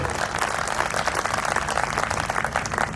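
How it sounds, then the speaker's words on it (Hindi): An audience at a Hindi kavi sammelan applauds to welcome a poet, a dense, steady burst of many hands clapping together, close and loud throughout. "अपने समाज का बेटा जब कविता पाठ करता है तो उसका स्वागत कैसी तालियों से होना चाहिए"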